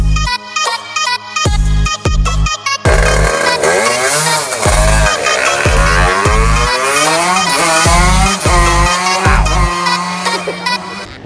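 Motorbikes at Kinsham Raceway race past during a practice session, engines revving high and whining, growing louder as they pass close by, with quick gear changes and overlapping engine notes.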